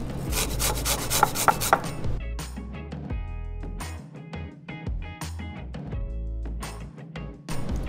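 Fresh ginger root scraped against a grater for a vegan eggplant dish, giving loud, close, rapid rhythmic rasping strokes that slow into separate scrapes and knocks.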